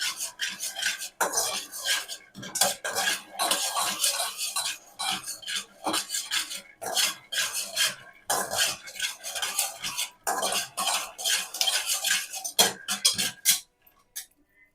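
Food frying in a pan being stirred steadily with a utensil, repeated scraping and rubbing strokes close by in bursts, pausing briefly near the end.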